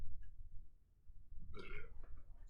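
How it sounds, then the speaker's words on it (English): A single loud, drawn-out burp erupts about midway through, croaking and throaty, over a low constant hum from a room with a PC being upgraded. "Sorry, I burped."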